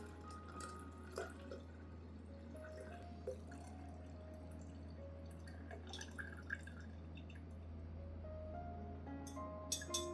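Chili-powder solution drips through a thin muslin cloth filter, with sparse, soft liquid drops and trickles scattered over a low steady hum, quiet and close.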